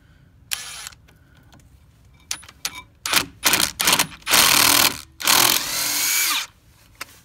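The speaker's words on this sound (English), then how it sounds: "Now we can go ahead and flip this bit around to the extractor side here. Now let's try extracting it." A power drill fitted with a bolt extractor bit works against a broken hardened steel bolt, starting with short stuttering bursts and building into longer loud whirring runs, followed by a final grinding push.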